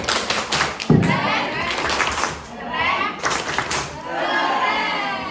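A classroom group performs a patterned clap routine, with rhythmic bursts of hand claps and a heavy thump. Children's voices and chatter are mixed in, and the claps come in clustered groups rather than as a steady applause.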